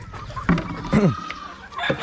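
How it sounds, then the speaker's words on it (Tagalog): Farm chickens cluck in a few short close bursts during feeding time, with faint background noise between the calls. "Magpapakain lang muna tayo ng mga manok."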